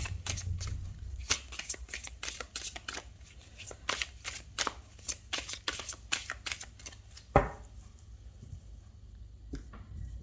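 Tarot cards shuffled and cut, a close run of rapid papery riffles and slaps with one louder thump near the end.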